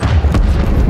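A destroyed target explodes in Elite Dangerous space combat, a loud, continuous low boom with rumbling body and no voices.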